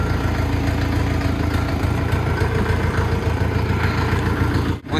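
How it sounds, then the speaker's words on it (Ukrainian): A Kentavr F404 XU tractor's engine runs at a steady idle, a close, continuous low rumble with even mechanical chugging that holds constant before a brief dip near the end. "витискаємо щеплення повністю і запускаємо трактор"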